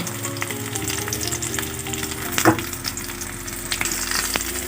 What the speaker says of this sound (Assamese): আমাৰ ৰঙচুৱা হোৱালৈকে ভাজিব লাগিব।